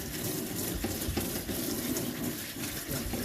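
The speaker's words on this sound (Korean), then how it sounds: "다듬은 무는 흐르는 물에 이런 솔로 깨끗하게 씻어주세요" Radish being scrubbed with a brush under running tap water while preparing seokbakji kimchi, a steady close wash of water with rough scrubbing bursts throughout, no talk.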